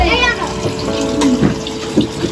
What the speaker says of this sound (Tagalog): Walang tigil ang tulo ng tubig